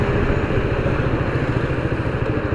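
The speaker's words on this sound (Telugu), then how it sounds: "అన్న ఎవడో బైక్ వేసుకుపోతున్నాడు, రైడర్ అనుకుంటా" A motorcycle rides along a road, its engine giving a steady, moderately loud mid-pitched drone with light clatter, continuous for the whole stretch with no voices.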